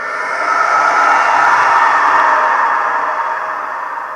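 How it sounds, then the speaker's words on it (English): A drawn-out, shrill screech that swells and slowly fades into a long, echoing reverb tail, heard alone. "some kind of flying creature screeched"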